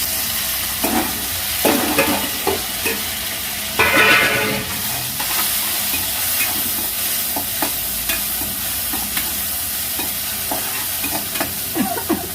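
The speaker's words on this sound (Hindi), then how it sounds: "अब डाल देंगे टमाटर।" Chopped tomatoes sizzle and fry in a hot pan while a spoon scrapes and stirs them, bright crackling hiss with repeated scraping strokes, close and loud, no talking.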